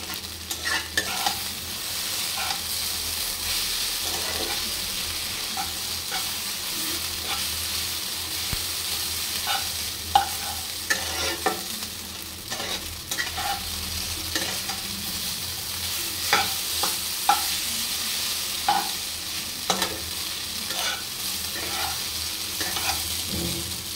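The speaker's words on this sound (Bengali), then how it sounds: "এবার একটু নাড়াচাড়া করে আমার চাউমিন রেডি।" Chow mein being stirred in a frying pan, a long steady sizzle broken by frequent sharp scraping and tapping strokes of the spatula, close and uninterrupted by talk.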